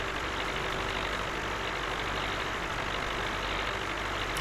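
A tractor engine in Farming Simulator 19 drones at a constant RPM around 1700 to 1800, a loud, even, monotonous rumble that holds steady throughout with no gear changes or voices.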